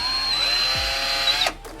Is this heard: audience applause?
no